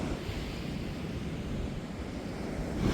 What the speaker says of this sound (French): on va se contenter d'admirer d'admirer ça, la puissance des vagues